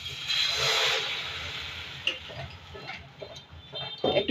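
Patishapta pitha batter hits a hot pan with a bright, steady sizzle that swells at first and then settles into a softer crackle, close by, with faint kitchen clatter afterward.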